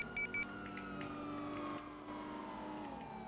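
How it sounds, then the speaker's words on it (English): Police car sirens in a GTA roleplay game, a steady wailing siren tone with engine noise, faint and continuous with a few brief beeps near the start. "the sirens are a little bit loud though"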